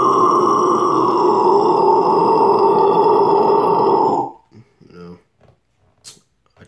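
Low guttural vocal scream made with a narrow passage of air at the back of the tongue, one loud sustained rasping growl of about four seconds, then a few faint breathy sounds and pauses.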